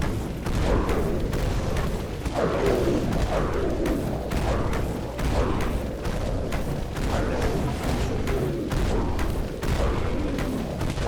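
Repeated booming blasts from a grenade launcher in the Dead Frontier zombie shooter, firing in a steady rhythm of loud, close explosions over continuous mechanical clatter, with no voice over them.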